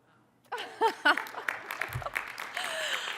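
Scattered applause and a few whoops from a cheering section at the back of an audience at a college expo talk, starting abruptly, with voices mixed in and clapping continuing at moderate volume.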